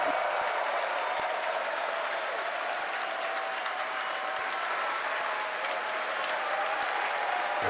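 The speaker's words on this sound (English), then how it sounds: "Again, over the cheering," A crowd cheers and applauds steadily at a rocket launch just after main engine cutoff and stage separation, a dense continuous roar of clapping and voices at a constant level.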